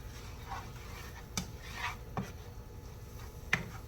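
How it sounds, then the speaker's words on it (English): Garlic being stirred into Brussels sprouts in a pan with olive oil, a quiet close bed of soft scraping broken by a few sharp knocks of a utensil against the pan. "Then first, I add a little garlic. Stir that in."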